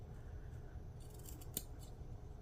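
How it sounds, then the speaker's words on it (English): Scissors take a few small, quiet snips through faux fur, with one crisper cut near the middle against a low background hiss. "You just take little snips because you don't want it to look like cut hair"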